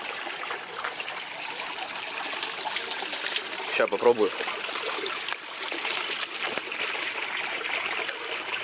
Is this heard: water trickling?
yes